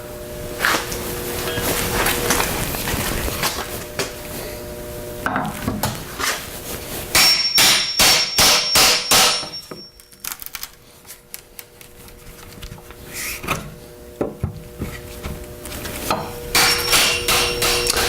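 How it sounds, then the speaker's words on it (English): Sharp metallic hammer blows ring out in rapid bursts with pry bar prying and wood creaks between them as a wooden pallet is taken apart, close and loud, with pauses of quieter rustling. "I used my hammer and my pry bar to do it somewhat"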